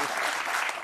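A brief burst of steady clapping from an audience, a dense, even patter of many hands.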